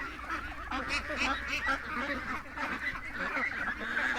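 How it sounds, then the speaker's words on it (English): A flock of ducks quacks continuously, overlapping harsh calls close by in a constant, busy chatter. "Like right now when the quacking starts"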